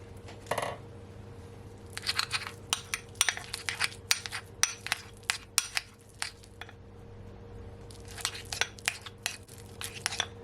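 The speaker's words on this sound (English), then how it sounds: "I'm gonna cut a few of my thyme leaf." Knife chopping fresh thyme leaves on a board in a home kitchen, a run of sharp, close clicking cuts in quick irregular bursts, a pause, then another cluster of chops over a low steady hum.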